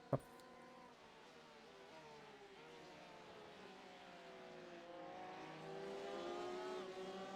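A Porsche RSR race car engine drones and rises steadily in pitch and loudness, revving up as it passes on the Daytona road course, after a brief sharp click at the start.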